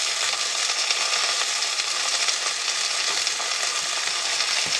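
Chicken sizzles in an oiled, smoking-hot pan with a loud, dense, continuous crackling hiss held close to the microphone throughout.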